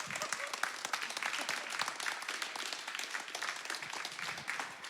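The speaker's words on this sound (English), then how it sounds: "can I get a round of applause for y'all and our donors?" A crowd applauds steadily and loudly for a few seconds, dense clapping from many hands throughout.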